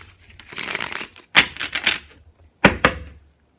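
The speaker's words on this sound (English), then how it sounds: "Two more shuffles" Tarot cards being shuffled in several quick bursts of papery riffling and slapping, close by, with short pauses between each shuffle.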